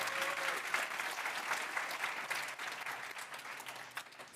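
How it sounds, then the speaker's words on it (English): A conference audience gives a short round of applause, many hands clapping in a steady, fairly soft wash that thins a little near the end. "Just real quick round of applause"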